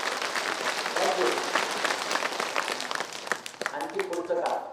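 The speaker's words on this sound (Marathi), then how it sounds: "जोरात टाळ्या वाजवायच्या" An audience at an eye-donation movement anniversary event claps loudly in dense, sustained applause, with a voice heard over part of it.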